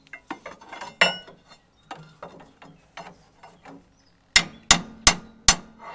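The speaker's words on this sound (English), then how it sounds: "let's pry down on this" Metal clanking and ratcheting from a pry bar worked against the mechanism of a 1965 Allis loader, a scatter of lighter clicks followed by four loud, sharp metallic strikes near the end, close up with no talk.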